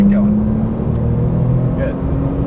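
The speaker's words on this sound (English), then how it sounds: "Accelerate. And as fast as you want down the straight." A Porsche Turbo accelerating hard down a straight on a cone-marked course, its engine rumbling loud and close from inside the car with a rising tone, while a voice briefly speaks over it.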